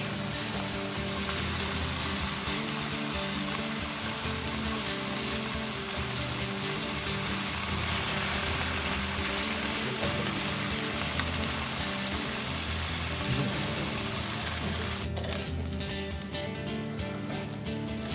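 Food browning in a frying pan while making a white sauce for fettuccine Alfredo, giving a steady, dense sizzle and crackle that runs close and unbroken, with no voices over it.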